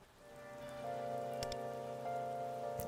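Rain in the video game Persona 5 X, a soft steady patter under sustained musical tones and a few brief clicks, quiet and continuous.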